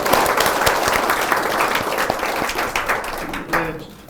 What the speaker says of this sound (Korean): 큰 박수 보내주시면 감사합니다.